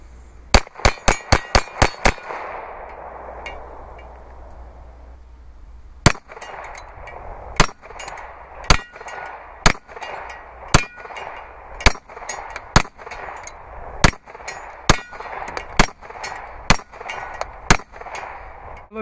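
Rounds from a firearm strike a portable steel target: a rapid string of about ten sharp metallic clangs, then a slower series of single ringing hits at roughly one-second intervals, each crisp and resonant over an outdoor background.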